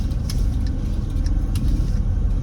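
Cars in traffic on the way to Sunday mass, a close, steady low engine drone and road rumble from inside a vehicle, with a few light clicks and no talking.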